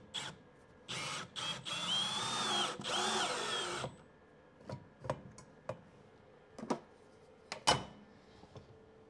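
A power drill whirs in several short bursts, then a long run, tightening a part during a PC watercooling loop install, followed by scattered clicks and taps of handling parts.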